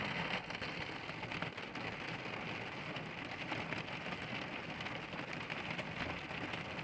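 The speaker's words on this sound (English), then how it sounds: "And the rain is picking up." Steady, dense rain hisses continuously, an even wash of drops with no break and no voices.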